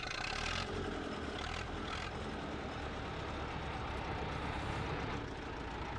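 A heavy diesel tractor engine in the video game Farming Simulator 22 rumbles steadily and loudly, idling with a rough, constant drone throughout.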